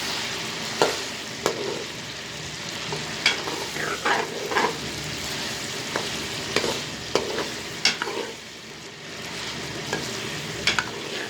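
Chicken karahi fries on a medium flame in a pan, a steady loud sizzle with a spoon or spatula stirring through it in irregular scrapes and clinks, close up.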